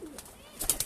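Pigeons at a loft cooing, a quiet brief soft coo with a few sharp flutters or taps at the end, faint and close.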